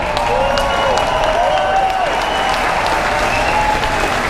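A large crowd at a political rally in the Sharonville Convention Center, Cincinnati, Ohio, applauds and cheers in a loud, dense, continuous roar that fills the hall, with faint voices within it.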